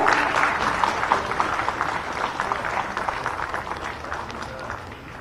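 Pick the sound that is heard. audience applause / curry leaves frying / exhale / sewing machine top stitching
audience applause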